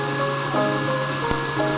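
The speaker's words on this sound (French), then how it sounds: "Séchez à l'aide d'un sèche-cheveux." Hair dryer blowing steadily on freshly formed paper pulp on a screen, a continuous close whir with a constant motor hum throughout.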